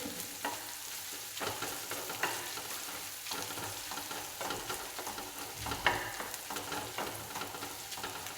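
Crushed shallots fry briskly in hot oil for a sardine dish, a close, continuous crackling sizzle with occasional stirring scrapes and small pops throughout.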